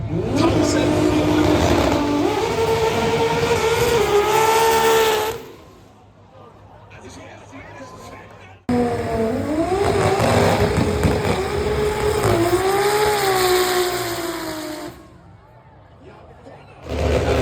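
Tuned Nissan R30 Turbo making over 1000 horsepower revs hard at a tuning show, with two long, loud wailing pulls that rise and fall, each followed by a drop to a rough, lumpy idle.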